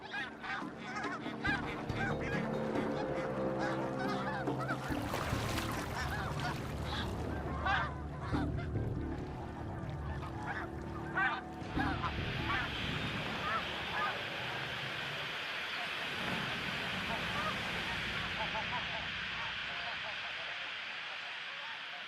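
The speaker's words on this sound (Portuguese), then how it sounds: "Este ganso machucou a asa, o que dá à águia a chance que ela precisa." A goose with an injured wing honks repeatedly in the wild, loud nasal calls in the first half over a rushing outdoor background that continues alone afterward, with narration heard over it.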